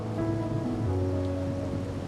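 Rain falls steadily in the video game Wuthering Waves, a soft continuous patter under sustained tonal game music, with no speech.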